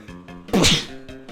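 A single sharp sneeze bursts out loud and close over a repeating soft electronic game tune from Spyro Fusion played on a Game Boy Player, then the music carries on.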